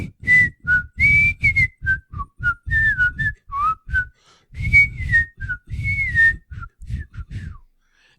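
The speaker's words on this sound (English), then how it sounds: "A whistle, and everybody knows that song." A person whistles the Andy Griffith Show theme tune: a loud, close, bright melody of short and held notes in a bouncy rhythm, with brief pauses between phrases.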